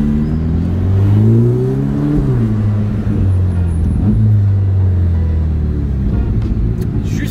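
A Ferrari Portofino M drives through Monaco's casino square, its engine rumbling close and loud, rising and falling in pitch as it accelerates and eases off, with no talk over it.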